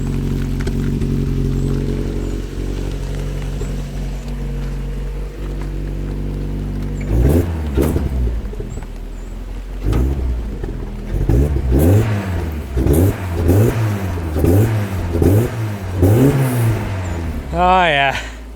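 A restored Mazda MX-5 engine idles low with a misfire, then revs repeatedly in short rising bursts, loud and close.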